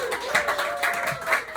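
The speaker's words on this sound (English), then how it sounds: "it starts with giving me a big round of applause" Audience applause at a small café show, a moderate round of clapping with slight swells in intensity, steady throughout.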